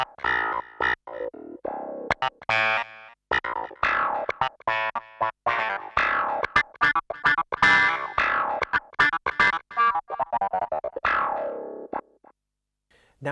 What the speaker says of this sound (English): this is another classic clav type sound